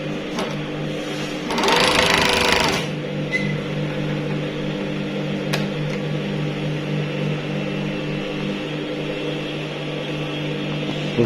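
A blind stitch sewing machine runs steadily with a continuous mechanical hum and whir, a brief louder burst of rattling early on, then settles into an even drone throughout.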